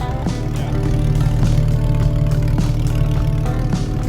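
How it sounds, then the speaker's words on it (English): A Lykan Hypersport replica car's engine idles after a cold warm-up, a steady, close, low rumble with a regular mechanical pulse and faint ticking, running alone with no talk. "this is the sound of its normal idle after a cold warm-up."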